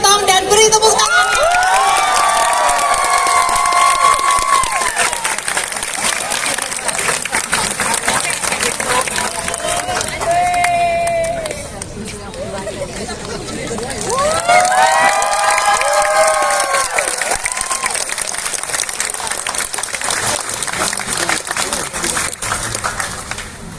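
A large concert crowd in Jakarta cheers, shouts and whoops loudly as Stephen Tong is welcomed at a grand concert. The roar stays sustained, with high excited voices, dips briefly midway, then swells again.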